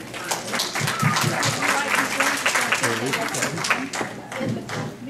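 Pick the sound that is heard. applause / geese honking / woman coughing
applause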